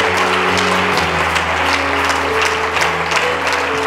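A church congregation claps in a steady rhythm over sustained musical tones during a worship service, loud and continuous throughout.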